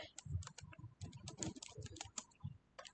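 Fingers type steadily on a computer keyboard close by, producing a quick irregular run of crisp key clicks with brief pauses, quiet and without talking.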